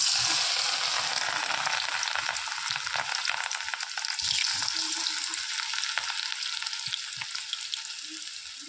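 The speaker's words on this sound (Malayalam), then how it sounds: "കോളിഫ്ലവർ ഫ്രൈ ആക്കാനായിട്ട് മസാല ഒക്കെ ഇട്ടിട്ടോ നമുക്കിത് ഫ്രൈ ആക്കി വെക്കാം" Cauliflower coated in masala fries in a pan, giving a dense, close, steady sizzle with occasional stirring scrapes and light clinks, no voices.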